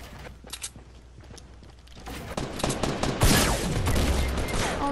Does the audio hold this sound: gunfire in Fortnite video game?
yes